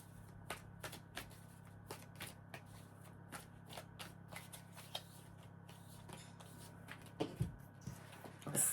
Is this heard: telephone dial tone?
no